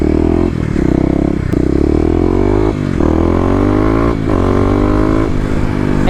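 A Kawasaki KLX250 motorcycle fitted with a 13-tooth front sprocket accelerates hard, its engine revving loud and close in rising pulls with brief dips between gear changes.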